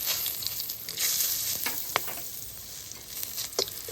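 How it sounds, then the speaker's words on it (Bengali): Whole cumin, dried red chillies, bay leaves and whole garam masala crackle in hot oil, a steady close sizzle broken by sharp pops and a few stirring scrapes, no voices. "কিছুটা গোটা জিরে ফোড়ন দিলাম তার সঙ্গে আমি দুটো শুকনো লঙ্কা দুটো তেজপাতা আর গোটা গরম মশলা ফোড়ন দিলাম"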